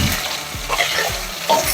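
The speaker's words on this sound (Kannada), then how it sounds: "ಈರುಳ್ಳಿನ ಕೆಂಪಗಾಗೋ ತನಕ ಉರಿಬೇಕು." Onion sizzling in a pan with whole spices such as cinnamon and bay leaf for a potato, cauliflower and pea curry, a loud close crackle with brief stirring scrapes.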